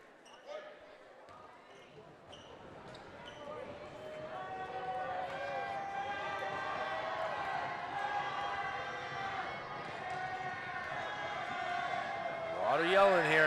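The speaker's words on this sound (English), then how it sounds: "A lot of yelling here" A gymnasium crowd at a boys' high school basketball game, Central vs. Memorial, builds into sustained loud yelling and cheering, with a commentator talking over it and sneakers and bouncing balls audible beneath.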